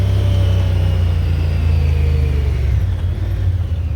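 A Kawasaki Pioneer 1000 utility vehicle towing a load and engine braking, giving a loud, steady low rumble that slowly winds down as it slows.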